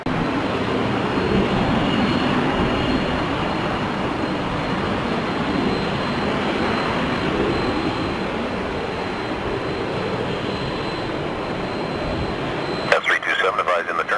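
A regional jet lands at Toronto Pearson airport, heard as a steady, loud broadband roar of jet engines that holds throughout, ending in a brief crackle of radio noise.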